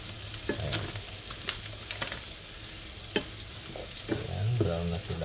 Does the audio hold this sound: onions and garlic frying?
yes